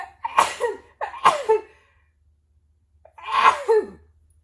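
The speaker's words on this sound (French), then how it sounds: "j'ai éternué" Three sharp sneezes from one person, two in quick succession and a third after a short pause, close and distinct against near silence.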